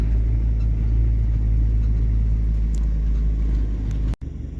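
A car rumbles steadily on the drive home from a field in a Ukrainian village at sunset, heard close from inside with a continuous low engine and road drone that drops out abruptly near the end.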